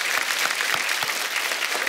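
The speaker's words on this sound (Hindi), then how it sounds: "एक बार जोरदार तालियां हमारी आर्मी के लिए" A studio audience on The Kapil Sharma Show bursts into loud, dense applause, steady claps filling the room with no voices over them.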